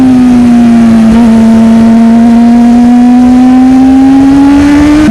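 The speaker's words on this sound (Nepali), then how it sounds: "अहिले बाइकको FI चेन्ज भएपछि यस्तो मिठो साउन्ड" A superbike's exhaust drones loud and close after an FI change, a steady high-pitched engine tone held at near-constant revs with a slight rise toward the end and a brief dip partway through.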